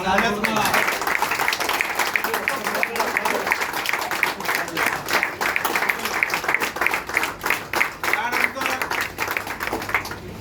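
Loud, sustained applause fills a felicitation ceremony hall, steady clapping from a crowd with some voices mixed in throughout.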